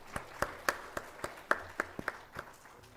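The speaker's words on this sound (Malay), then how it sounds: "Berikan tepukan gemuruh sekali lagi." An audience at a university graduate awards ceremony claps in a sparse round of applause, with a dozen or so distinct claps spaced irregularly and fading slightly toward the end.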